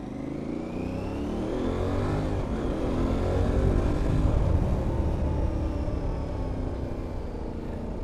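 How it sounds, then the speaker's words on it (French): An Aprilia Tuareg 660 mid-size trail motorcycle being ridden, its engine a steady close, loud hum that swells slightly with throttle in the middle before easing back, with wind noise and no talking. "Donc là on est parti pour rouler jusqu'à la fin de l'essai."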